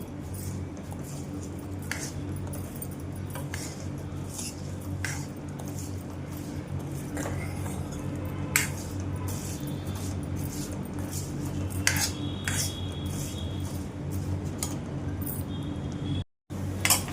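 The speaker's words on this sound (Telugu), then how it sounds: "చూడండి, కందిపప్పు కూడా వేగిపోతుంది." Toor dal dry-roasting in a pan over a low flame, stirred with a utensil that gives intermittent scrapes and clinks against the metal over a steady low hum.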